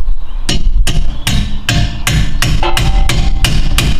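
A hammer taps a bolt out of the rear upper control arm and rear axle center section of a 2011-2014 Mustang GT, with the nut loosely on the bolt end. About nine sharp, loud, close metallic strikes come in a steady rhythm.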